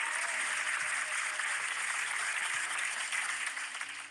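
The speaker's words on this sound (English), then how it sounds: "Let's give a round of applause for the douchebags." Applause for a morning radio show plays as a steady, soft, dense wash of clapping. Low thumps and faint background sounds come through underneath it.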